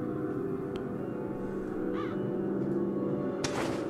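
A raven caws in the Das Schwarze Auge game Satinavs Ketten, one short call in the middle and a louder harsh caw near the end over a steady ambient music bed.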